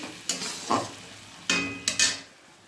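Rice frying in a pan with whole garam masala and raisins, soft sizzling broken by a few distinct scrapes and stirs of a spatula, close and fairly quiet.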